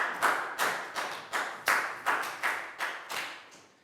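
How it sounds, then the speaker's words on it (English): A small class claps in unison for a pupil during a Year 4 maths lesson, about ten sharp, evenly spaced claps at a steady rhythm, close and moderately loud, with no talk. "High five and a big round of applause for Pak Bung"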